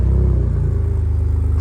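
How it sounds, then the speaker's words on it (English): A Ford Ranger Raptor engine fires up by remote start and settles into a loud, close, steady low rumbling roar with a throbbing idle pulse, no voices over it. "straight away, you've got that lovely roar that you get from these cars"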